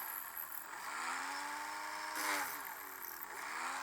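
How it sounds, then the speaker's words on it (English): A small motorised hand drill whirs steadily as it enlarges holes in a part of a DJH G5 locomotive model kit, a faint, continuous whine that rises slightly in pitch midway. "enlarge these holes slightly."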